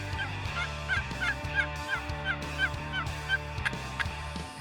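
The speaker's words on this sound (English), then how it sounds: "I think we heard a couple of gobbles." Wild Osceola turkey gobblers gobbling at dawn in foggy pine woods, several rolling gobbles repeating in a steady series at moderate distance.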